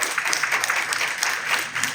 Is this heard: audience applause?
yes